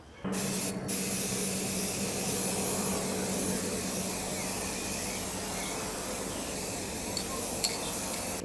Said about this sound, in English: The paint I'm using is a solvent based, actually a car spray paint.